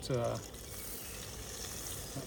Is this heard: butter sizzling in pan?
yes